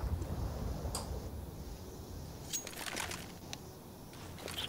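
A planted bomb ticking in a tactical shooter game: a faint, steady beeping tick at regular intervals over a constant hiss of background game ambience, with no talking.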